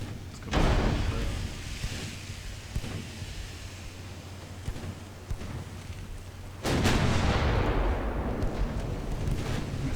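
Battlecruiser turret guns fire in the naval warfare game Ultimate Admiral Dreadnoughts, set in 1910 with British ships: a heavy boom opens the scene, then rumbling battle noise carries on, and a second big salvo hits hard near the end.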